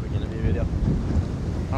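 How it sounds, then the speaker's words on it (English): Strong wind buffets the microphone in a continuous low roar on a golf course, with a faint whine in the first half. "It's pretty windy."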